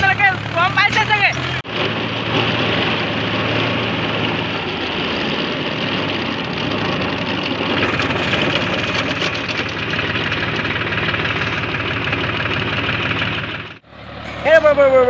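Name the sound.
Shaktiman tractor engine running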